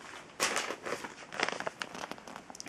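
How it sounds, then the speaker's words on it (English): A paper bag crumpled by hand close up, giving a run of crisp crinkling and crackling bursts that start sharply and carry on irregularly for a few seconds with no talk. "Paper bag."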